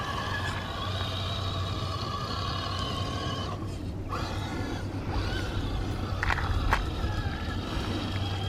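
An RC truck grinds through a deep rut outdoors, a continuous whining motor and rumbling tyre noise with a few brief squeaks and scrapes, fairly close and steady throughout.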